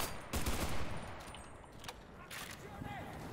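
Bursts of machine gun fire in the World War II shooter game Enlisted, set in a Tunisian desert battle, with a loud close burst early on and sharper shots scattered after.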